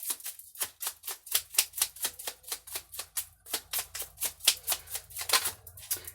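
Tarot cards drawn one after another from a deck, producing a steady rapid series of crisp flicking snaps, close and fairly loud, with a faint low hum beneath and no talking.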